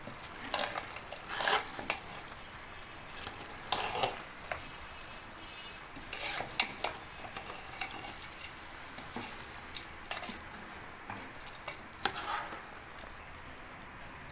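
Water leaf being stirred into a pot of edikaikong soup, giving soft scattered scrapes and clinks of a utensil against the pot at irregular moments, fairly faint, with no talking.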